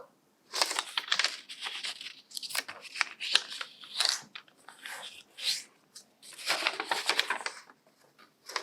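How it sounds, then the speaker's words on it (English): Paper being folded into rectangles for an origami tree, heard as crisp crinkling, creasing and sliding rustles in several close bursts with short pauses between them. "Now you're going to open it, flip it over, and we're going to fold it into a rectangle."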